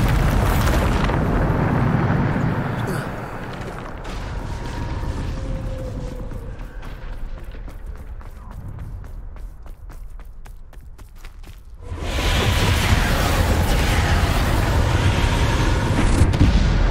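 Bombarda spell blasts in Hogwarts Legacy gameplay: rumbling, booming explosion noise swells at the start, fades into quieter creaking mechanisms and footsteps, then a second loud broad blast erupts and roars on to the end.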